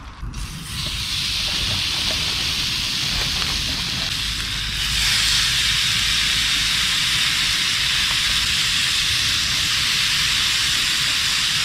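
Steaks cooking on a portable camping stove in a camper van by a lake, making a loud, continuous close sizzle and hiss with a low burner roar that swells slightly partway through, with no talk.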